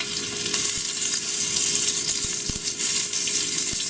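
Pieces of squirrel meat sizzle loudly in a very hot frying pan, a dense, steady crackling hiss with scattered sharp pops and no talking.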